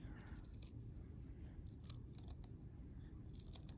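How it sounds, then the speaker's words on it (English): Quiet snipping of scissors cutting felt close to a beaded edge while making a bolo tie, several soft short cuts over a low background hum, no speech. "So I'll cut very close to the outside bead like this,"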